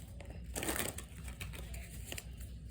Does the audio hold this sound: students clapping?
no